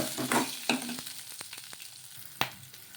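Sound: frying green chillies, garlic and ginger in a pan

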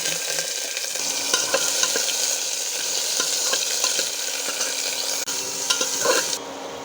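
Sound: chopped vegetables frying in oil with cumin and bay leaf

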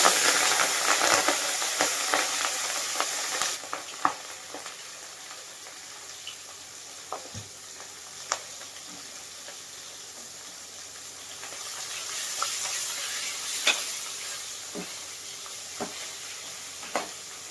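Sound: fish frying in hot oil

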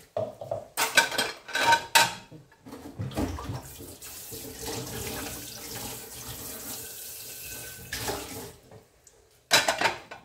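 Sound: dishes clattering in a sink

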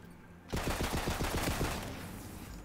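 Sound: corrosive SMG firing in video game Tiny Tina's Wonderlands

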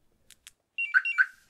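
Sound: Compustar CM7000 car alarm siren chirp

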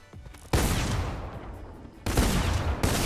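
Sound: shotgun gunfire in a video game

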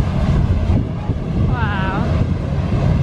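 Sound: hovercraft at Clarence Pier, Southsea

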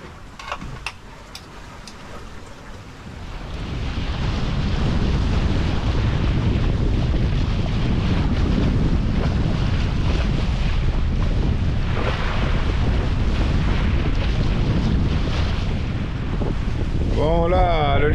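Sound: wind blowing on a sailboat at sea

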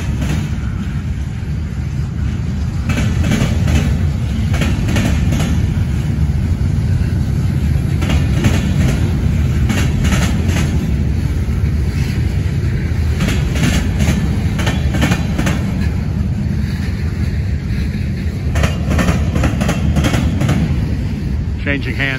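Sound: Norfolk Southern freight train passing with classic cars

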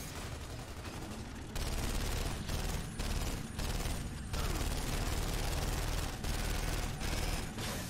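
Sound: machine pistol gunfire in the video game Gears of War 2

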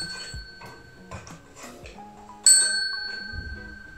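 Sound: notification bell sound effect

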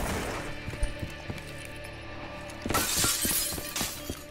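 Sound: glass shattering in a video game

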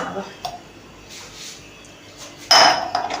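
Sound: tea cups clinking while serving tea

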